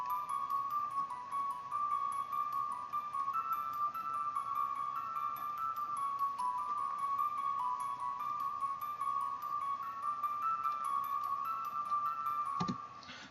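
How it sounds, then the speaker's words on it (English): A quiet music box melody built in FL Studio for a dark, ominous trap beat plays as a thin, bell-like line of steady high plucked notes over a soft ambient background, with no voices. "we use the music box for this one and for this melody here"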